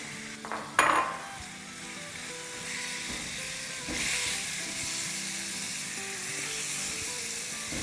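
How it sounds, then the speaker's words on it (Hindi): Minced chicken sautéing in oil in a pan gives a steady broadband sizzle, with a brief louder clatter near the start and continuous frying hiss after, close and alone. "तो बस इसको सौटे करेंगे जब तक कि इसका कलर चेंज ना हो जाए"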